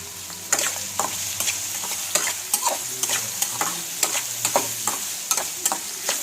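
Onions fry in a pan over a medium flame with a steady sizzle, broken by regular scraping clicks of a spoon stirring, close and fairly quiet, with no talking.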